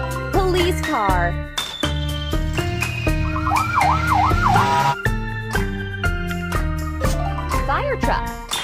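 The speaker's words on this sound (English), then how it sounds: "police car," A toy police car siren wails in a rapid up-and-down sweep for a couple of seconds, mixed in with bouncy background music and short chirpy effects, fairly loud and close.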